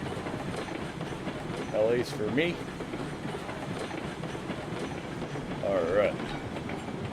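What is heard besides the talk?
train running on rails in video game RailRoads Online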